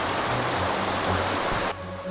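Steady broadband rush of a river stream flowing through dense forest, continuous and fairly loud, with the wash changing character and dropping slightly near the end, no voices.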